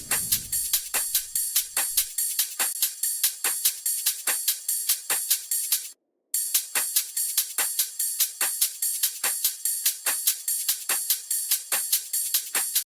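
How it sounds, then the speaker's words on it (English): Two layered drum loops from Splice drive a beat with steady, crisp, bright hits and a brief low thump at the start. They drop out for a moment midway, then resume the same tight pattern. "I ended up layering that with these 2 drum loops right here"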